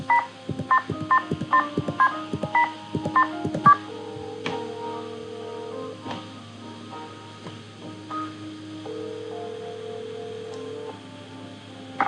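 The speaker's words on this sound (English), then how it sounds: "I want to make a few phone calls first to Ned, George, and Bess." Telephone dialing in the Nancy Drew: Stay Tuned for Danger video game: a quick run of about nine keypad tones, then long, steady ringing tones repeating in a quiet room.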